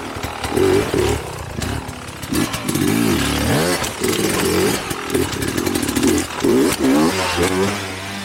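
Enduro motorcycle engine revving hard and loud as it climbs a steep, tough hill, the pitch rising and falling with throttle bursts throughout, close to the listener and continuous.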